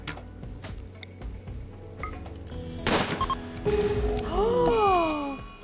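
Video game gunfire rings out as a few sharp shots and a quick burst over game ambience and tonal effects, moderately loud, with brief speech.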